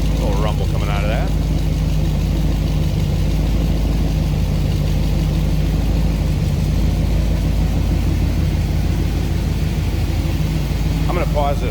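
A 1963 Studebaker Avanti R1 with a 289 V8 idles steadily, heard from behind at the exhaust, a constant low rumble that runs loud and close for the whole stretch without pause.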